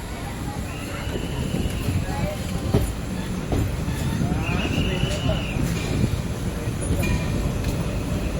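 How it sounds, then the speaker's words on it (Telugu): Tirupati–Kakinada train shunting at a station: steady low rumble of rolling stock with clanks and knocks, occasional high metallic squeals of wheels, background voices murmuring throughout. "తిరుపతి నుంచి కాకినాడకి వెళ్ళే ట్రైన్ షంట్ చేస్తున్నారు"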